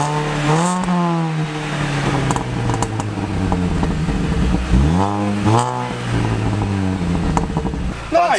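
The engine of a supercharged Mini track car revs up and down in several rising and falling sweeps, loud and close, with a hard bark near the end.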